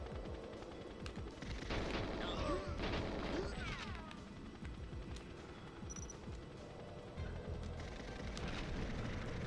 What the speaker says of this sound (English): I'm trying to watch the pretty explosions